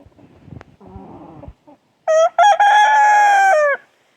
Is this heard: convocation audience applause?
no